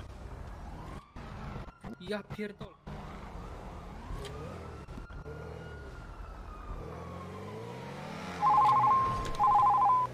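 A wailing police siren rises and falls in the background while someone talks over it, with a brief electronic chirp near the end, in GTA V roleplay.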